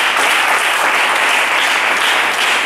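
A church congregation applauds loudly and steadily, a dense wash of many hands clapping together for the whole stretch, with no talk rising above it.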